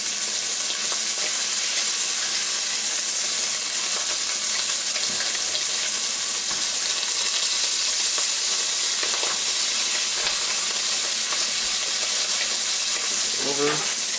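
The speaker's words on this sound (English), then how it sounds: "Yes, you can already see the shrimp changing colors." Shrimp sizzle steadily in a very hot pan for a seafood white wine sauce, a constant bright hiss of frying with faint stirring clicks and a brief scrape near the end.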